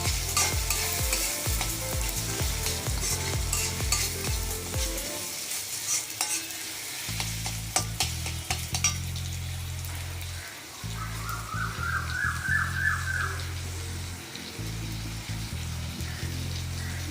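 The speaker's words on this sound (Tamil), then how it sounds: "தண்ணியை விடக்கூடாது, அந்த ஆயிலே நல்லா ஃப்ரை ஆகிடும்." Half a kilo of prawns coated in masala frying in oil in a pan, a loud continuous sizzle broken by bursts of stirring and scraping, with no talk.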